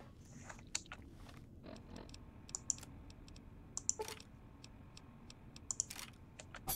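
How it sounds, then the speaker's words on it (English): Typing on a regular old-fashioned computer keyboard, sparse irregular clicks and key taps, close and quiet, with no talking. "I'm gonna try it with just a regular old-fashioned keyboard."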